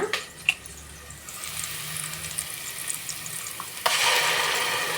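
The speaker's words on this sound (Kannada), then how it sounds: "ಮಸಾಲೆ ಏನು ತುಂಬ ಫ್ರೈ ಮಾಡಬೇಕು ಅಂತಿಲ್ಲ ಆಗಲೇ ನಾವು ಈರುಳ್ಳಿ ಎಲ್ಲ ಫ್ರೈ ಮಾಡಿ ಹಾಕಿ ರುಬ್ಬಿದ್ದೀವಿ ಸೊ ಆಗಲೇ ಸ್ವಲ್ಪ ಫ್ರೈ ಆದರೆ ಸಾಕು" Ground masala paste frying with onions in a pan gives a soft, steady sizzle with occasional stirring scrapes, growing brighter and louder near the end, with no talk.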